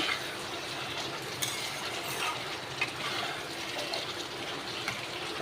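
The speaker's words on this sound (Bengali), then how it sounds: "এবার আমি জল ঢেলে দেবো" Water is poured into a pan of katla fish curry, giving a steady, moderately loud rushing splash that lasts throughout, with small clicks and no voices.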